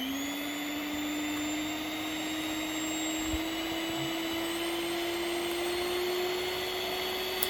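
Crownberg hand mixer with whisk attachments running steadily, a close, constant motor whine with a slight rise in pitch, no speech.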